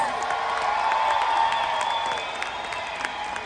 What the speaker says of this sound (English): Can you guys give a warm welcome to Henry on the sax?